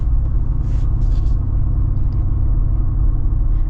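A Jeep Wrangler Rubicon 392 V8 rumbles steadily nearby, a deep continuous throbbing idle with even loudness and no talking over it.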